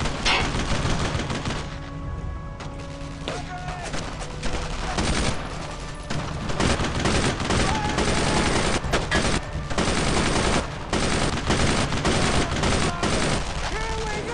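Dense machine-gun suppressing fire and scattered gunshots in the Brothers in Arms war game, loud and nearly continuous, with battle noise and shouted voices mixed in.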